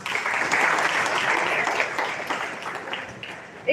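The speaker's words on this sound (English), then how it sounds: "A big round of applause for our senior management" An audience applauds at a law college orientation in Delhi, a sustained, even wash of clapping that slowly tapers off.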